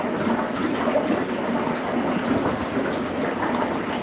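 Water pours into a fish tank container in a continuous, even rushing splash that stays close and steady for the whole few seconds.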